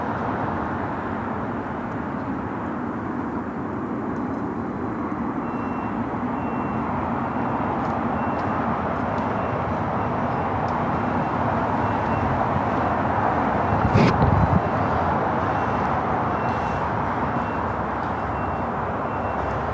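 Japan Airlines airliner taking off from runway 25 right at LAX, a broad steady jet roar that swells slightly and holds, heard from a distance with no talk.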